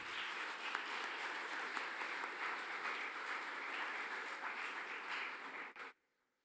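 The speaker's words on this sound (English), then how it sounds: "A round of applause again for all our sponsors." Sustained applause from a large audience, thick continuous clapping that holds steady for several seconds before cutting off abruptly into silence.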